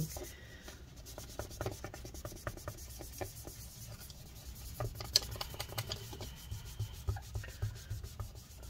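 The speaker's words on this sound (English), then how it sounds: "put some more rubbing alcohol and same thing, continue wiping" A cloth soaked in rubbing alcohol wiping the inside of a 15-inch Retina MacBook Pro A1398, giving a faint, steady rubbing and scuffing with light ticks, close and quiet throughout.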